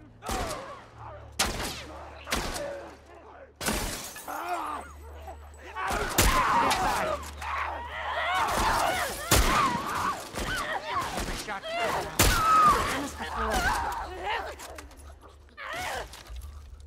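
Gunfire in The Last of Us Part I, scattered sharp shots in bursts across a tense combat scene, mixed with shattering, thuds, grunts and characters talking over a low rumbling score.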